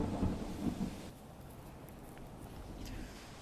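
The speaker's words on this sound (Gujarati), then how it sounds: "અત્યારે વરસાદ વરસી રહ્યો છે" Heavy monsoon rain pours steadily, with a low rumble of thunder rolling through the first second before easing into a constant wash of rain.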